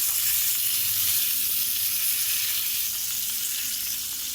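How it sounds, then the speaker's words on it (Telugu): Curry leaves sizzle and crackle steadily in hot oil as a tempering for peanut chutney, a dense, close, continuous frying hiss with no voices over it. "కరివేపాకు వేసుకుంటున్నాము"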